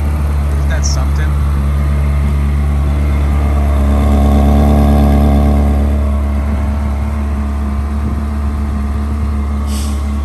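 A 2003 Ferrari 360 Spider engine idling and revving with a low droning rumble, swelling briefly in the middle, heard up close with someone speaking over it.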